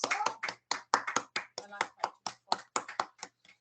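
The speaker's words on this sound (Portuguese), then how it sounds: "As nossas palmas a Jesus." Rhythmic hand clapping in a steady beat at a religious home gathering, sharp and close, with voices mixed in.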